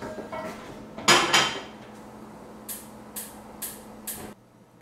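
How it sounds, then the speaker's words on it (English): Sauté pan handled in a home kitchen, a loud metallic clank and rattle followed by several short, bright scraping strokes of metal, close and distinct over a low steady hum. "I'm going to need another sauté pan"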